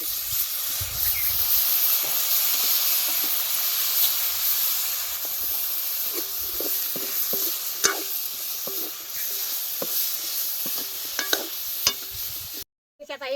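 Spiny gourd (kartule) tipped into a hot pan with oil and red chilli powder, giving a steady hissing sizzle with scattered clicks and stirring scrapes, close and moderately loud, fading toward the end.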